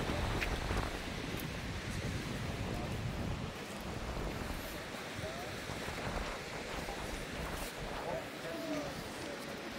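Strong seaside wind at Cabourg in Normandy, France, rushes and buffets the microphone continuously, a loud broadband roar with faint surf beneath.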